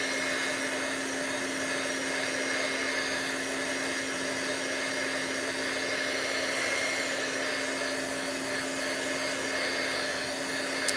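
A heat tool blows steadily on the back of a wet paper craft card to dry it and stop warping, a continuous whirring hiss with a fixed hum, loud and unbroken for the whole stretch with no talking.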